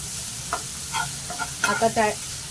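Softened onions and tomatoes sautéing in a pan for potato bhaji, a low sizzle with several quick spatula scrapes and stirs close by.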